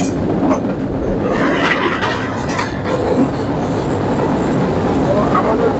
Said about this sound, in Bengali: বর্তমানে আমাদের ট্রেনটি ঈশ্বরদী জংশনে প্রবেশ করছে।